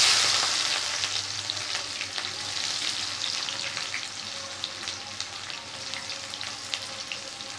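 Onion and whole cumin seeds frying in a pan for rajma, a steady broadband sizzle running throughout with faint stirring scrapes, close and fairly loud with no talking.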